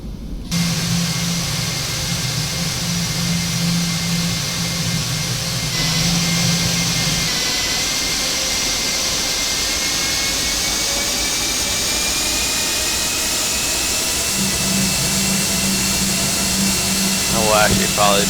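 TFDI 717 jet engines hold a steady, loud whine and roar as the airliner taxis in the FSX flight simulator, with a low hum that comes and goes.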